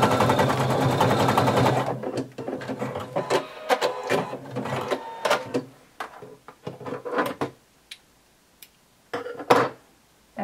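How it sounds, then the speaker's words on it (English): A sewing machine stitches over existing zigzag stitches on a swimsuit top: a sustained close whir for two seconds, then a series of short, sharp mechanical bursts and clicks with pauses between them. "By just sewing right over the zigzag stitches that are already there."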